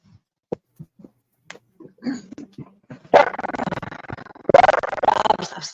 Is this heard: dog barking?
yes